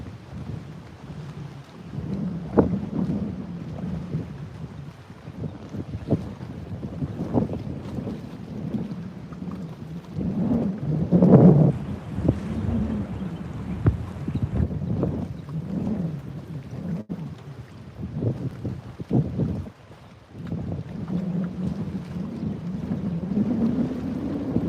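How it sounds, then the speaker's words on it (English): Strong gusty wind on the Tennessee River buffets a fishing boat and the microphone in a rumbling roar that swells and fades over about twenty-five seconds, loudest midway, with no speech. "I don't know if this wind's supposed to stay this strong all day long, but she's strong right now"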